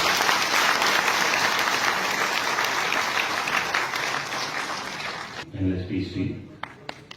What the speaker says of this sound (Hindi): आपकी जोरदार तालियों से